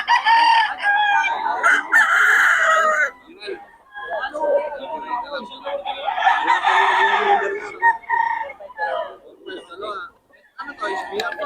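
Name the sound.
Boston roundhead gamecock rooster crowing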